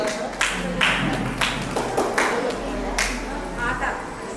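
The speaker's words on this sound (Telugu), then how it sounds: "ఒకసారి క్లాప్స్ అయితే కొట్టాలండి, ఎంకరేజ్ చేయాలి కదా మరి" Guests at a traditional baby shower give scattered, light hand claps in short bursts, while a host keeps talking over them.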